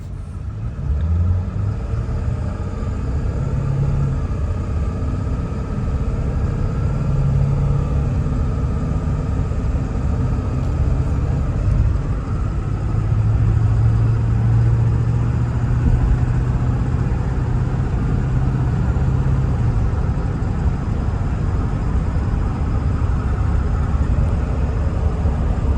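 A 2001 Ford Excursion Limited 4WD with a 7.3L Powerstroke diesel pulls hard through its gears, its loud, steady engine rumble rising and falling with each shift, heard from inside the cabin with no talking.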